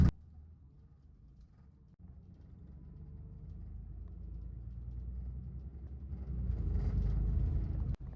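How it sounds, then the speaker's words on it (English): A Volvo B602 bus's engine rumbles low and steady from inside the cabin during a ride, swelling gradually louder as it pulls along, with a brief clunk near the end. "our bus for today is a Volvo VB B602"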